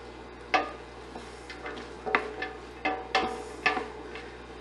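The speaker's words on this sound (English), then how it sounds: "The garlic is starting cooking." Garlic cooking in a pan for chicken cacciatore, with irregular soft clicks and light scraping from stirring over a low, steady background hum.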